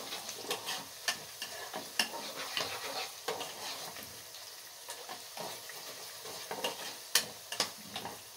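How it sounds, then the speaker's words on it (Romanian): Onions frying in a pan for potato gnocchi, with a steady close sizzle broken by repeated scraping clicks of stirring, no voices. "Frăgim bine ceapa."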